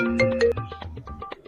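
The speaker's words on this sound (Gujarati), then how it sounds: "વળી કોનો ફોન" A mobile phone ringtone plays as a bright, melodic electronic tune with a few clear sustained notes that then fade out, alone and close.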